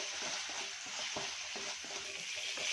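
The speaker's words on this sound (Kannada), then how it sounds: "ಇದೆಲ್ಲವನ್ನು ಚೆನ್ನಾಗಿ ಫ್ರೈ ಮಾಡ್ಕೊಳ್ಳೋಣ ಟೊಮೊಟೊ ಮೆತ್ತಗಾಗಬೇಕು ಅಲ್ಲಿವರೆಗೂ ಫ್ರೈ ಮಾಡ್ಕೊಳ್ಳಿ" Tomato and turmeric frying in a pan give off a steady, soft, close sizzle with light rhythmic scraping from stirring throughout; no voices.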